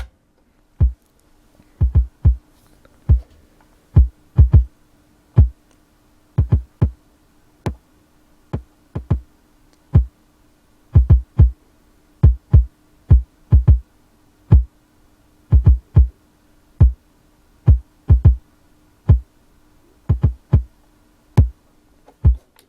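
A kick drum with a high-pass filter rolled in thumps in a steady, repeating pattern, short punchy hits with occasional doubled beats, alone over a faint low hum.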